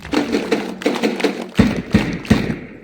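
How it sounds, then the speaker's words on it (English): Students at a school morning assembly clap together in a rhythmic, patterned beat, with groups of crisp, evenly spaced claps in unison and a few heavier ones toward the end, close and fairly loud. "Let's clap for them."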